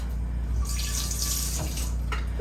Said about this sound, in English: Let me rinse my can off.